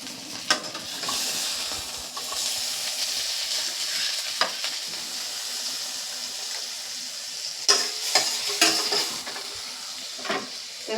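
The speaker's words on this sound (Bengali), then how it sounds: "মাছের মাথাগুলো কিন্তু ভাজা হয়ে গেছে, এবার আমি একটা প্লেটে নামিয়ে নিচ্ছি" Rohu fish heads fry in oil in a pan, a steady, bright sizzle running the whole time, with a few sharp clinks of utensils toward the end.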